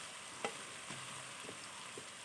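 Large potato chunks stirred into chicken curry in a pan, a faint steady sizzle with a few soft spatula scrapes and knocks, quiet and without talk.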